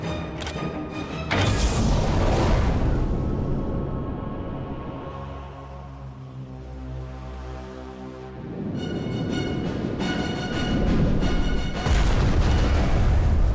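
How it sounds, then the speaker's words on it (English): A torpedo explodes on a fuel tanker in a WWII submarine documentary reenactment, a long, loud rumbling blast with a roaring swell, a brief lull under droning music, then renewed heavy booming. "Torpedoed it, and it was a fuel tanker, and there was a large explosion."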